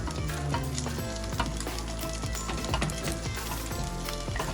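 Kilaban pork drops into a hot pan already holding chicken longganisa for Ilocano-style chao fan, raising a loud, steady, close sizzle with frying crackle and stirring scrapes throughout.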